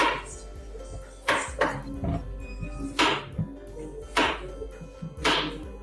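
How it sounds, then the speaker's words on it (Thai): A knife slices ingredients diagonally on a board while cooking Thai kaeng proe curry, with about six sharp, evenly spaced chopping knocks, close and fairly loud, in a quiet kitchen. "หั่นเฉียงๆเล็กน้อยนะคะ"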